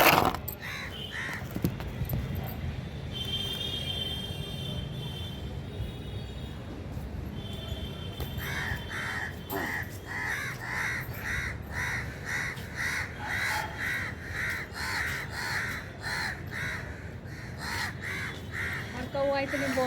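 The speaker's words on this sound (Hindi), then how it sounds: "कौवा इतने बोल रहे हैं," Many crows caw again and again from a rooftop in a busy, overlapping chorus of harsh calls, steady and fairly close, over outdoor background noise, with someone talking among them.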